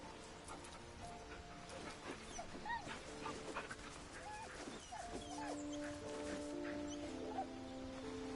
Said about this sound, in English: Where's that dog? Come here, Scratch.